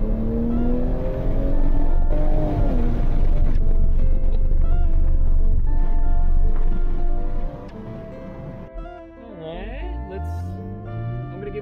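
A 2020 Toyota GR Supra accelerates at half throttle, its engine note climbing loudly through the gears from inside the car before dropping off to a quieter cruise.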